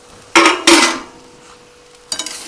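Spoon clattering against a pan while stirring sabudana khichdi with potato: two sharp metallic knocks close together, a quiet pause, then a quicker cluster of clinks, all close and loud with no voices.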